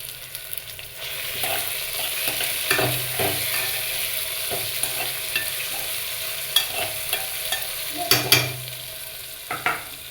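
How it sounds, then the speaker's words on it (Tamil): Chilli powder sautés in a pan for a bottle gourd curry, with a soft steady sizzle and occasional scraping stirs close by, quiet and without talk. "இது வந்து நல்லா வணக்கி விடுங்க."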